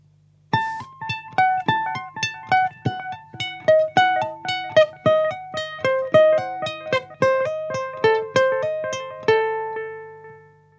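A fast ukulele shred lick picked with a plectrum, a quick run of bright plucked notes climbing and falling before ringing out on a final sustained note, clear and close with no voices.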